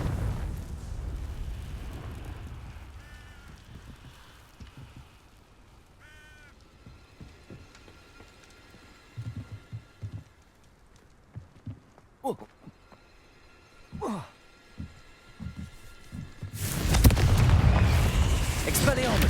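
Confringo spell explosions in the video game Hogwarts Legacy: after quiet stretches with scattered short hits and zaps, a sudden loud fiery blast erupts near the end and roars on, with a voice speaking earlier.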